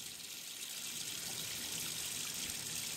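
Water running steadily into a laboratory vessel during a vanillin bromination workup, a constant hissing, splashing stream close by with no voices.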